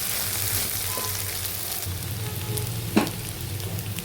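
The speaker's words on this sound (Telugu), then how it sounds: "ఇదిగండి దొండకాయ వేగింది కొంచెము" Ivy gourd pieces fry in a pan, making a soft, steady sizzle throughout with a brief clatter near the end, fairly quiet and without voices.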